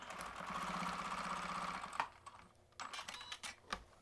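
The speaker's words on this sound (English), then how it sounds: "I know that that's where my needle is. I'm going to be watching this as I sew." A sewing machine runs steadily for about two seconds, stitching a seam on a small scrappy log cabin quilt block, then stops, leaving faint scattered handling sounds.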